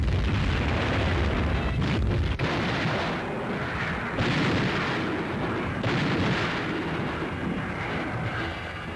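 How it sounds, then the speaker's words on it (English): WW2 field guns firing in action near Salerno, Italy, in 1943, heard as a loud, continuous barrage of booming reports with sharp onsets around two, four and six seconds, filling the whole clip without speech. "And now the field guns go into action"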